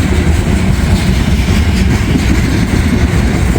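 A very long freight train winds through bends in foggy Kentucky, passing close by with a loud, continuous rumbling roar of wheels and cars that holds steady throughout.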